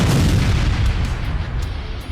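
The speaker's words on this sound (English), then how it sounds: "crashing into a devastating explosion" A loud, rumbling explosion from an anime battle scene, with a dense low boom that lingers, followed by a few fainter pops trailing off.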